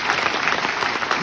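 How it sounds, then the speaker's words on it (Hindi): Audience applause at a Common Service Centres Digital India event under Azadi Ka Amrit Mahotsav, a dense, steady burst of many hands clapping throughout, loud and continuous with no talk. "खूब जोरदार तालियां बजाइएगा"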